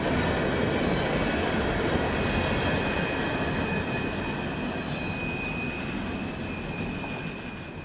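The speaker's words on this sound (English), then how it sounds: "B339 would have the usual CM44s for power today, with a string of wet rock open hoppers" A CSX freight train with CM44 locomotives hauling a string of open hoppers loaded with wet rock phosphate rolls steadily past in central Florida, a loud continuous rumble with faint wheel squeal that eases slightly toward the end.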